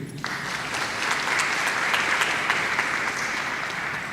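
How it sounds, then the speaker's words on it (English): A room full of people at a Women's Day event breaks into sustained applause for the women present, dense even clapping rising quickly and holding steady throughout. "a huge round of applause is due to all the women who are here right in this room"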